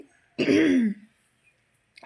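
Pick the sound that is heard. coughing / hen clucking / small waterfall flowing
coughing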